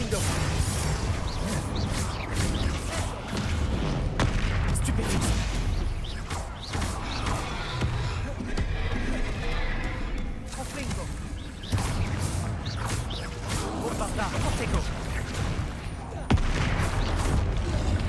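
Repeated Confringo blasting-spell explosions in the Hogwarts Legacy video game, dense booming bursts over continuous battle noise and game music, with speech-like voices mixed in throughout.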